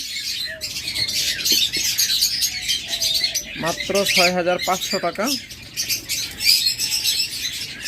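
Many caged pet birds in a shop, lovebirds, cockatiels and budgerigars, keep up a dense, continuous chatter of chirps and squawks, with wings flapping now and then and someone talking over them.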